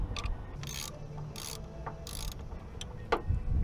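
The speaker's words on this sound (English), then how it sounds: "So let's get this loosened so that I can rotate it." A ratchet with a 14 mm socket clicks as it loosens a car battery terminal nut, giving three short bursts of close ratcheting with quiet pauses and small metallic knocks between them.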